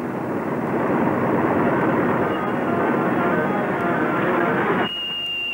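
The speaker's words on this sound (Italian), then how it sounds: "Dobbiamo fermare quell'aereo." Airplane engine in an old Marx Brothers film set in Casablanca, a loud continuous roaring drone that holds steady and then drops abruptly near the end, leaving a quieter hum with a thin whine.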